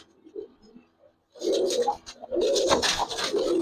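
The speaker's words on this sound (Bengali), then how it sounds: "দেখেন কবুতরটা মাশাআল্লাহ" Giribaz pigeons cooing in a loft, with a faint murmur at first and then two loud, close, throaty coos that swell and hold, with no talk over them.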